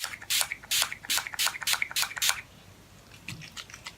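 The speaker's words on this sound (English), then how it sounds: "I'm going to be setting my face with Essence Keep It Perfect Makeup Fixing Spray." A rapid series of about seven short, sharp spritzes from a bottle of makeup fixing spray onto a face, close up, followed by a few fainter hisses and quiet handling.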